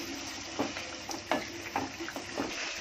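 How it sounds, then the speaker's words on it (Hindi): Green masala paste fries in a pan over a high gas flame for an egg curry, a steady hiss broken by a few close scraping stirs at irregular intervals, with no one speaking. "अब मैं डालूंगी इसमें हरा मसाला अपना। भूनते वक्त गैस मैंने फास्ट किया हूँ।"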